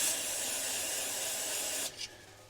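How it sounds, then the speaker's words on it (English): A continuous loud hiss of an aerosol spray up close, lasting about two seconds before cutting off, followed by a brief short burst, during a shift shaft seal replacement on a Corvette. "let me hit that again with some spray."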